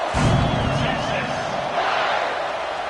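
A stadium crowd at a Texas vs Cal college football game roars and cheers as a steady, loud wash of noise, with a commentator's voice heard over it.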